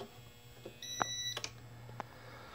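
A short electronic low-voltage alarm beep sounds once from a Power Jack inverter as a refrigerator is plugged in, over a faint steady hum, followed by a few small clicks and ticks.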